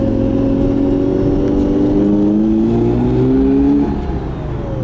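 A 1984 Mazda RX-7 Savanna GSL SE coupe with a 13B rotary engine and five-speed gearbox buzzes loudly on a test drive, revs climbing steadily then dropping after a shift, heard close from inside.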